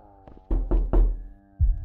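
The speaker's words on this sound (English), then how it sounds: "Who's knocking?" Heavy knocks in the horror game ROMUT: two close thumps, a third after a short pause, and one more about a second later, all over a low droning ambient hum.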